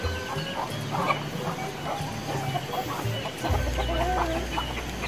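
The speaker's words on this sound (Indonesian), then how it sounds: "Lagi ngasih makan ayam." Chickens cluck and chatter in a busy, continuous jumble while being fed, with a low steady hum underneath.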